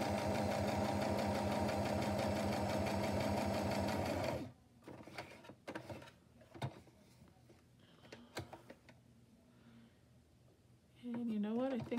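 A sewing machine stitches clear plastic pockets onto journal pages, running loud and steady for several seconds, then stopping, leaving small clicks and handling sounds before the motor starts again briefly at the end.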